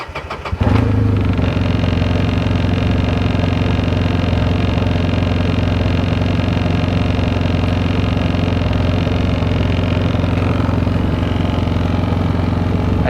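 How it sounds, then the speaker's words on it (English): A UTV engine with no sound deadening installed starts and then idles, a steady, loud mechanical drone that holds constant for over twelve seconds with no talking. "we're gonna start it up and check the decibels at idle"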